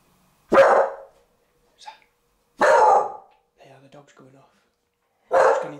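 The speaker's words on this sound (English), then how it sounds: "because the dog's kicking off there" Dog barking loudly in a house, three sharp barks spaced a couple of seconds apart with faint yips and a low grumble in between, close and otherwise quiet.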